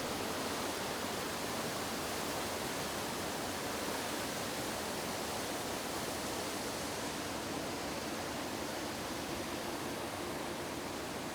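Vermillion Falls in Minnesota pours in winter with a loud, steady, unbroken roar of rushing water, broadband and constant throughout.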